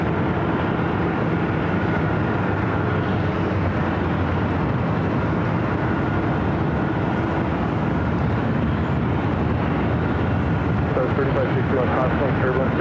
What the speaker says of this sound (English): Our next arrival is Aer Lingus A330.